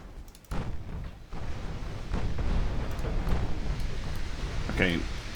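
Naval gunfire from 4-inch guns in the warship game Ultimate Admiral Dreadnoughts, a steady rumble of repeated booms with a sharper crack near the end, heard under continuous commentary.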